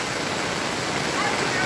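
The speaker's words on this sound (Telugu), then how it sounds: "చూడండి ఇట్ట ఇంత భారీ వర్షము, చాలా భారీ వర్షం." Heavy monsoon rain pours down with floodwater rushing around the flooded Mahanandi temple area, making a dense, steady roar that stays loud and even throughout.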